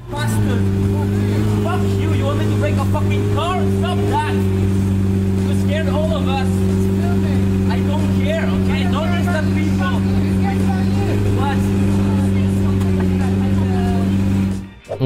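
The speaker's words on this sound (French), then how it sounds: "nous pouvons voir une voiture de sport donner des coups d'accélérateur" A sports car engine roars loud and close, holding a steady, heavy drone through most of the fifteen seconds before cutting off abruptly, with voices faintly audible underneath.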